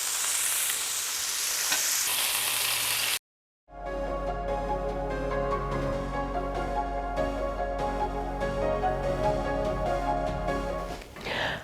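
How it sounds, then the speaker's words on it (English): A steak being butter-basted with thyme and garlic in a pan after the heat is turned off gives a steady, close sizzle and frying crackle, broken by a brief silence early on, with spoon-basting stir sounds and no talk. "I'm gonna turn off the heat, add my butter, thyme, and a little garlic, and baste it up."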